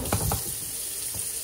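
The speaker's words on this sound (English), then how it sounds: "So spray some water in there." Water sprayed into the dirty water tank of a Schenley wet dry vacuum, a close hissing spray with a few brief splashing bursts at the start, no talking.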